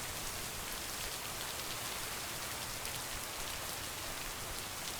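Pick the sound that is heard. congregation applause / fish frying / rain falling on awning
rain falling on awning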